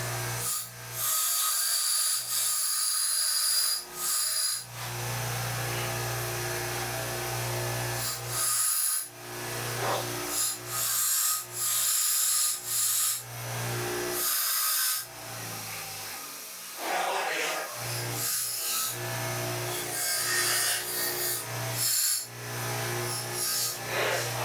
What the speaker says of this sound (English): I think what I'm going to do is just going to hit it with the grinder and grind it down